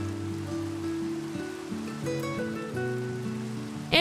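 Rain falling in the blocky survival game Minecraft, a soft continuous hiss running steadily beneath gentle melodic background music with no voices.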